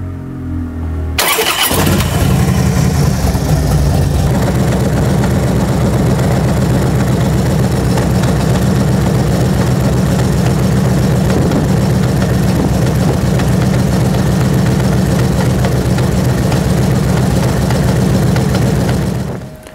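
A vehicle engine cranks and catches, then settles into a steady, loud idle with a constant low rumble that holds for nearly twenty seconds before cutting off, with no voices over it.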